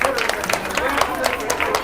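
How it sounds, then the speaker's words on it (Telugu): Audience applause at a Sri Vasavi Kanyakaparameswari Mata Jayanti gathering, a brief burst of many hands clapping steadily amid light crowd murmur. "గుండా శ్రీనివాస్ గారు ట్రెజరర్ ఒకసారి చప్పట్లు ప్లీజ్"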